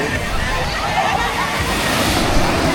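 Heavy surf rolls and crashes continuously, a broad roar of ocean waves with wind buffeting the microphone throughout.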